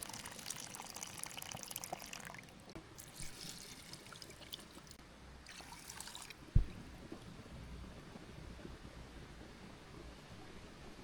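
Water runs and trickles steadily at a low level from a faucet at a campsite, with a brief knock partway through.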